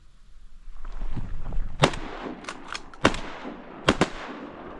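Shotguns fired at ducks on an opening-day duck hunt in New Jersey, three loud, sharp blasts about a second apart that echo across open ground over a low background rumble.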